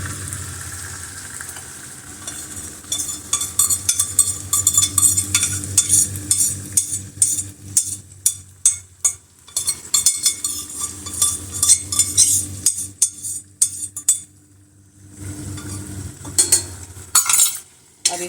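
Dal being stirred into cooked masala in a pan, with a loud close sizzle broken by repeated spoon scrapes and metallic clinks against the pan, in uneven bursts with short pauses.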